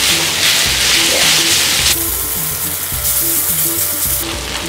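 Onions frying in a pan for lamb pasta, a loud, steady close-up sizzle with faint stirring running throughout.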